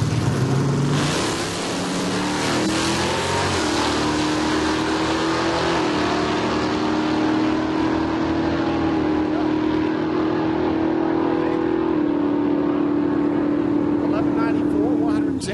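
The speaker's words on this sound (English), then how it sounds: "Ralph Hope driving the Nova." A Chevrolet Nova and another car launch down the strip at a 2011 Hot Rod Drag Week event at Heartland Park in Topeka, Kansas, with loud, sustained engine roar and rising revs as an announcer talks over it.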